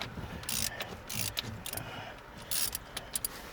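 Ratchet with a 3-inch extension working a nut loose during lock cylinder repair on a 1998 Jimmy, giving bursts of close metallic clicking and ratcheting separated by quieter scraping.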